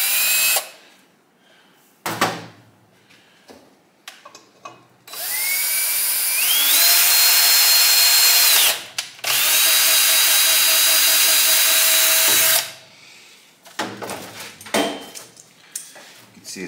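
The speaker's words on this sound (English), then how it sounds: "So I got a little WD-40 here, thread chase." A power tool chases threads with WD-40 on a 1971 Honda SL125 engine: two long, loud whining runs that rise in pitch as the tool spins up, framed by sharp knocks and clanks of handling.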